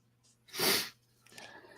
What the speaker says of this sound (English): Try not to sneeze again.